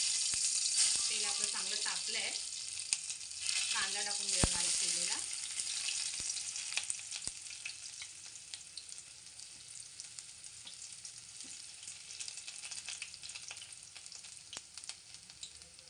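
Crushed garlic dropped into hot tempering oil for a spicy crab curry, with a loud bright sizzle that bursts up early and slowly settles into a steady crackle. Faint talking sits underneath, along with occasional stirring taps.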